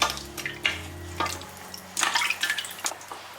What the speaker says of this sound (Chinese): 再加入3碗清水， 搅拌一下